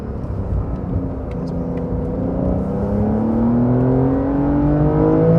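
A 2020 Porsche 911 Carrera 4S engine climbs steadily in pitch as it revs to about 6,000 RPM and beyond, a loud rising drone with a rough, rasping edge.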